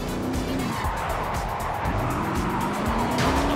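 In Forza, a car slides through a handbrake drift, engine droning under continuous tire squeal and skid noise, loud and close, with a rising engine note near the end and no talking.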